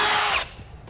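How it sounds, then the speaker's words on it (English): A power drill boring a pilot hole in the frame of a 2017 Toyota Camry while a Curt trailer hitch receiver is installed, a loud close whirring grind for about half a second that stops abruptly, leaving a quiet low rumble. "we're just going to drill a pilot hole to start with"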